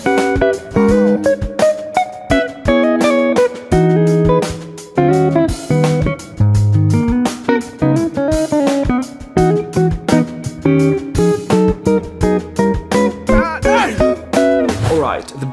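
Neo soul electric guitar plays a lively phrase of chords and single-note runs, close and clear, with plucked attacks and ringing notes that keep going throughout.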